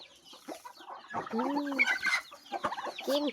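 Chickens cluck and call up close while being fed rice in a rural yard, with a rooster-like crow and overlapping bursts of clucking.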